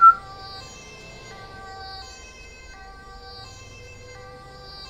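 Police siren from a patrol car in GTA5 with the LSPDFR mod, a steady electronic wail with layered tones holding at moderate level throughout, opening with a sharp brief burst.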